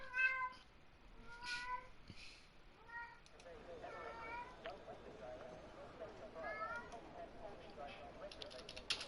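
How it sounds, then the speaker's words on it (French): A cat in heat meows repeatedly indoors, several drawn-out yowls spread across the stretch, fairly faint, with a person talking quietly in between and light tapping or clicking in the background. "Alors désolé pour les miaulements."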